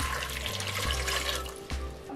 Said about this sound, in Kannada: ನೀರು ಹಾಕ್ಕೊಳ್ತೀನಿ